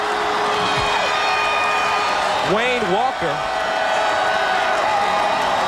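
A stadium crowd at a 1995 CFL football game, Baltimore Stallions at Shreveport Pirates, cheers a Pirates kick-return touchdown, a steady broad roar running under a commentator's close talking throughout.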